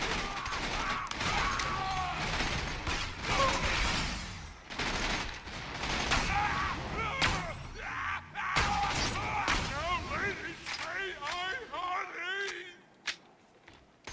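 Maliwan Snider sniper rifle fired in a shooter game, sharp cracks among loud gunfire, enemy yells and combat chaos, with a voice talking over the action.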